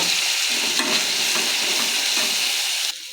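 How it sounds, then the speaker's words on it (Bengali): Ground peanut paste goes into a masala frying in a pan, a loud steady sizzle with stirring scrapes, easing off slightly just before the end, no talk. "এখন আমি দিয়ে দিচ্ছি এখানে বাদাম বাটাটা।"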